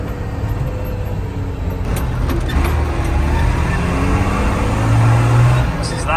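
A JCB Fastrac tractor engine idles with a steady low diesel drone, loud and close, swelling slightly near the end, with a brief clunk partway through.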